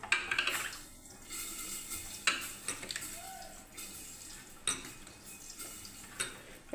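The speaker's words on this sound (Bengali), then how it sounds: "আমি কুঁদরি আলু পেঁয়াজটাকে আমি ভেজে ধুয়ে নেবো বন্ধুরা ভালোভাবে।" Ivy gourd, potato and onion pieces washed in water in a metal bowl, with repeated light clinks and splashy rattles of vegetables against the vessel, fairly close and moderately quiet.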